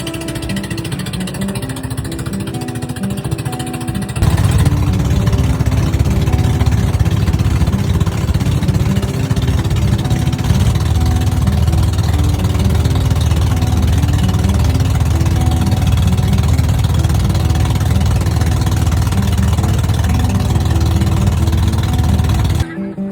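A boat's twin engines rumble steadily and loudly while island hopping off Nasugbu, Batangas, a thick continuous drone that swells after a few seconds and holds without a break.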